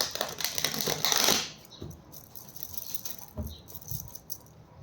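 Tarot cards shuffled in quick, dense riffling bursts over about a second and a half, then a softer rustle with a few light taps and handling sounds, close and alone.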